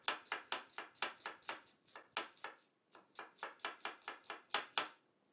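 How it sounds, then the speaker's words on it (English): A knife slices an onion thinly for julienne on a cutting board, a quick even run of sharp chopping taps, about three to four per second, close and clear, with a brief pause midway. "Now you want to get thin slices on the onion."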